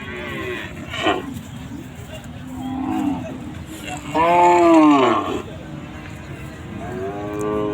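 Cattle low repeatedly at a busy rural cattle market in Bangladesh, with several loud, drawn-out moos over a steady crowd murmur and nearby talking.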